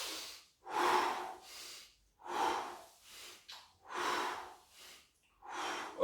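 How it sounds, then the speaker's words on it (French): Deep breaths during gentle seated exercise, a series of slow, close inhales and exhales in an even rhythm, separated by short silences, with no talking. "J'inspire et je souffle."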